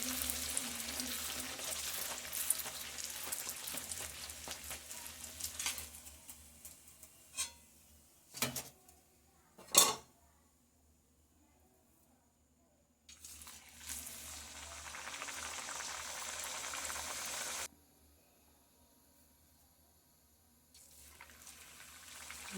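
Rolled luchi puffing as they deep-fry one at a time in hot oil, a bubbling sizzle that surges and fades in bursts, broken by a few sharp clatters and quiet gaps.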